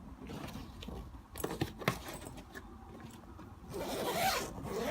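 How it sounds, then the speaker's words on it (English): Zipper on a blue Samsonite x-tralight 29-inch spinner suitcase being pulled closed, quiet ripping zip strokes with a few sharper clicks and a longer, louder zip near the end, no talking. "Very easy to zip it up."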